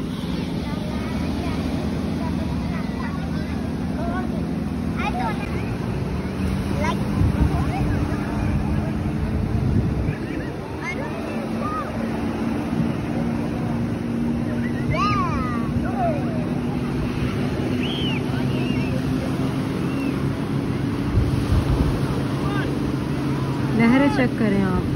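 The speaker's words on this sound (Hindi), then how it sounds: "लहरें चेक करें आप, काफ़ी तेज है।" Strong sea waves roll onto Khor Fakkan beach in a steady, loud broadband wash with wind buffeting, while voices talk nearby.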